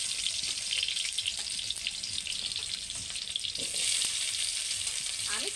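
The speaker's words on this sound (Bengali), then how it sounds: "দেখো পেঁয়াজগুলো দিয়ে দিচ্ছি।" Onions hiss and sizzle steadily in a hot pan, a close, bright crackle that continues throughout, with faint stirring noises.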